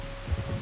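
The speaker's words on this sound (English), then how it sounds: "You were right about the damn rain." Steady rain falls in Red Dead Redemption 2, a dense hiss of drops with low rumbling underneath, heard alone in a brief burst.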